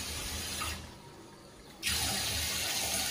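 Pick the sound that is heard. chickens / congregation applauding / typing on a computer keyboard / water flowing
water flowing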